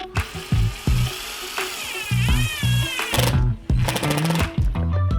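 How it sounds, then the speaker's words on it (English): A power driver sets roofing screws into corrugated roof sheeting on a chicken run, with loud repeated bursts of whirring and rattling and short pauses between each screw. "I then carried on making my way up the first sheet, screwing in one screw every second ridge."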